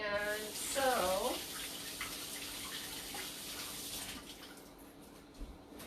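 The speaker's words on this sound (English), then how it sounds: "Just going to rinse my hands off before we do the next step here with the eggplant." Hands rinsed under a running kitchen tap while eggplant is being prepared, a steady close gush of water with splashing. A voice speaks briefly at the start.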